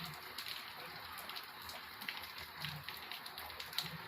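Heavy rain pours outdoors in a steady, dense hiss of drops that stays even throughout, fairly faint overall with no voices.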